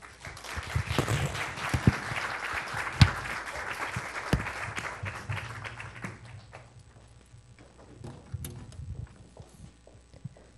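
Applause from a church congregation builds into a dense clatter of clapping with a few sharp louder claps, then thins out and fades to scattered claps and quiet near the end.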